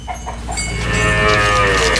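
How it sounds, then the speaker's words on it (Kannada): Calves, both female and male, moo on a farm that also keeps turkeys and chickens; one drawn-out, loud, close moo fills most of the two seconds, with no talking. "ಈಗ ಇದು ಹೆಣ್ಣು ಕರು ಐತಿ ಅವು ಗಂಡು ಕರು ಅದಾವೆ"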